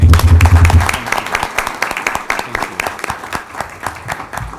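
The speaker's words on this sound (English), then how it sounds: "let's just give them one more round of applause before we head out" A city council meeting audience claps in a sustained round of applause, many sharp overlapping claps close and loud, briefly mixed with a low hum at the start before the clapping carries on alone and thins slightly toward the end.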